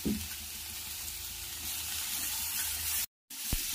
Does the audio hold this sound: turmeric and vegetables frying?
yes